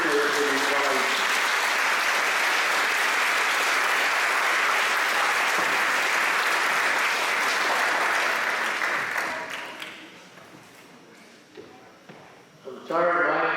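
Audience applause for a guest called to the stage at a San Jose Japantown community event: sustained, dense clapping from a large crowd, loud and steady for about nine seconds before fading into scattered claps and murmured voices.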